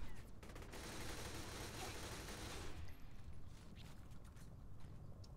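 Rapid bursts of Desert Eagle pistol fire in Saints Row: The Third, a dense fusillade of game gunshots that stays loud and steady, thinning a little toward the end.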